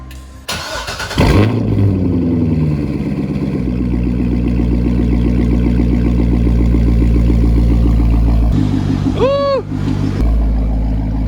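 A Corvette V8 with a harmonic balancer problem cranks and fires up, settles into a deep, loud, steady idle, then gives one brief sharp rev before dropping back to idle.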